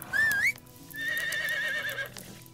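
A horse whinnies in the medieval life-sim game Medieval Dynasty, giving a short rising squeal and then a longer wavering neigh, fairly close and alone with no talk.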